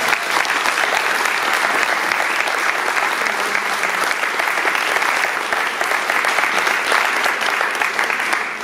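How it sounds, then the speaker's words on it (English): Loud, sustained applause from an audience at a roller coaster enthusiasts' convention business meeting, a thick even roar of clapping hands lasting throughout without a break. "give Stacy a nice round of applause for all she's done over the years."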